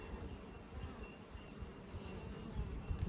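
Honeybees buzz in a steady, dense drone during a top bar hive inspection, a close continuous hum with a few louder swells near the end, no talking.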